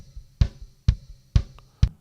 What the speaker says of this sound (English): Kick in sounds like this.